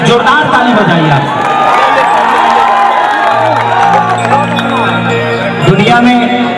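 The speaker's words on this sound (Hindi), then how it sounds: "एक जोरदार ताली बजाइए आप" A large audience at a Bhojpuri stage event cheers and shouts loudly. The dense, close crowd roar continues steadily, with whoops and a sustained low tone partway through.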